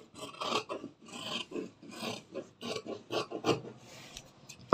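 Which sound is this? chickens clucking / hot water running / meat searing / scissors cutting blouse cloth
scissors cutting blouse cloth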